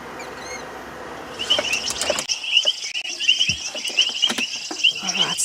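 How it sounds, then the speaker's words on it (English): A dense night chorus of many frog species calls at a dam, with rapid overlapping clicks, trills and chirps, loud and close, swelling abruptly after a quieter, noisy start. "listen to the cacophony of frog calls at the moment"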